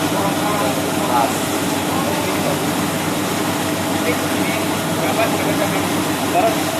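A compact rice milling machine whitening hulled brown rice runs with a steady, dense mechanical drone and rattle, continuous and close throughout.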